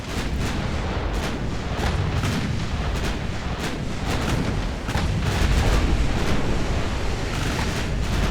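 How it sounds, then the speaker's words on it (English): Naval artillery booming in an Ultimate Admiral Dreadnoughts sea battle, a dense, continuous roar of gunfire and crashing blasts over rushing wind-and-surf noise, loud and unbroken throughout. "Three-inch guns are opening up too."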